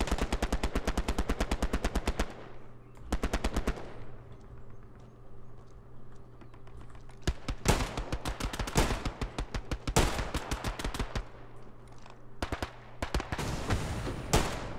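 Gunfire rings out in the Hell Let Loose video game, with rapid bursts of machine-gun fire and sharp single shots hitting a tank. The volleys come in repeated clusters with short quiet gaps between them, some near and loud, others more distant.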